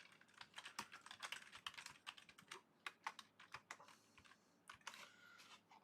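Rapid, irregular clacking of computer keyboard keys, fairly quiet and close, with uneven bursts of keystrokes and no voices.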